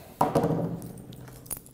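Keys jangle close by in a short burst of metallic clinks, with a few lighter rattles trailing off as they settle.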